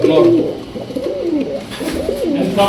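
Male blue checker pigeons coo at a pigeon house, with loud, close, throaty rolling coos repeating over the whole stretch and someone talking faintly beneath them.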